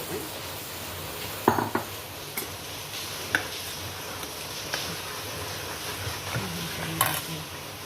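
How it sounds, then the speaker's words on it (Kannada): A spoon scrapes and knocks against a cooking pot at irregular intervals over a low background hiss, stirring a jackfruit seed curry mixture with added water. "ಹೀಗೆ ಮಿಕ್ಸ್ ಮಾಡಿ ನೀರು ಹಾಕೊಂಡಿದ್ದಾವೆ"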